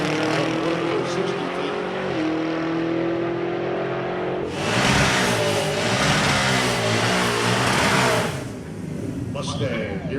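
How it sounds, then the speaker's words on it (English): A supercharged Ford Mustang revs in the right lane at a drag strip, with a loud engine drone that swells into a harder, brighter roar midway. Other track noise sits underneath. "Mustang here in the right lane, getting ready to go."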